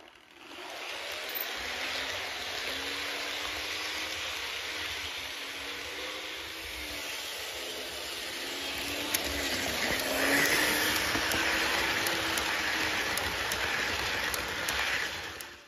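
Märklin model train pulling Czech ČD passenger cars round a track, a continuous close whirring motor hum with faint rail clicks, running steadily lap after lap.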